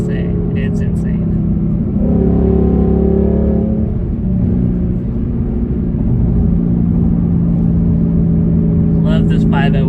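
A 2019 Ford Mustang GT with the 5.0 V8, 10-speed transmission and Corsa Extreme catback exhaust accelerates hard. The deep engine rumble is loud and continuous and climbs in pitch as the car pulls.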